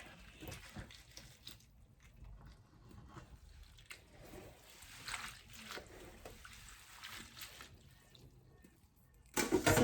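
Dried imported Irish moss is rinsed and swished by hand in water, a steady soft sloshing and trickling that runs throughout, with a louder splash near the end.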